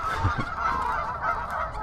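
Geese honk repeatedly at a distance over a fishing lake, a steady chorus of harsh calls over faint outdoor background noise.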